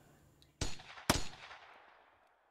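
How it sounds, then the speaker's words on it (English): Two sharp gunshots ring out in the video game Steins;Gate 0, about half a second apart, each a loud crack trailing into a fading echo. "Then more gunshots."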